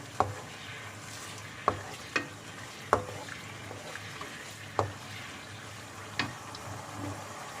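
Pineapple and pork are stir-fried in a pan with a splash of added water: sharp spatula clanks against the pan every second or so over a low, steady simmering sizzle.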